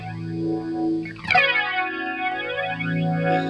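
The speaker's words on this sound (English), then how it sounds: "I tend to keep the flanger pretty low because it can get kind of nuts if you turn it way up" An electric guitar played through a pedalboard chain sounds a sustained chord whose tone sweeps with a flanger's jet-like comb filtering, swirling up and down, with a brief struck accent partway through and no voice.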